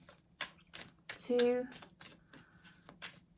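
A deck of tarot cards is shuffled in a series of soft, crisp papery riffles and taps, with a voice quietly counting along.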